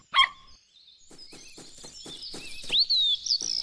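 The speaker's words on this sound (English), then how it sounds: "I'm recording the chirping of birds." Birds chirp outdoors, beginning with a loud high call followed by a run of quick, faint ticking notes, then several brighter whistled chirps and trills that grow louder toward the end.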